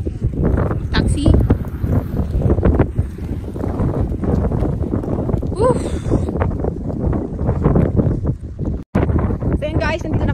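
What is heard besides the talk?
wind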